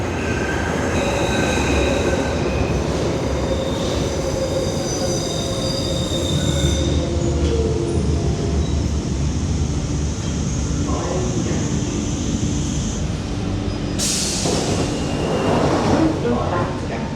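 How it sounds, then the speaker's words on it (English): A train rumbles into a station with high metallic wheel squeals and steady rolling noise, loud and close, a sharp hiss near the end. "my train is just approaching the platform now"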